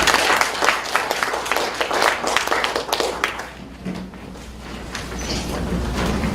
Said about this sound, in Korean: 박수 모시겠습니다.